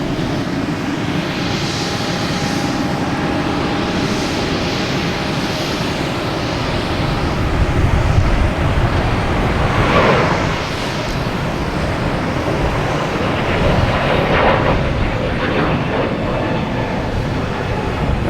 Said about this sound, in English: All right, we have Delta, A321neo,